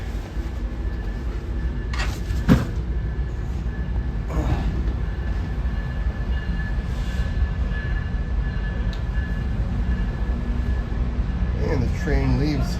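Steady low rumble and hum inside a stationary railway carriage, with faint clunks and a brief squeal, and a person speaking now and then over it.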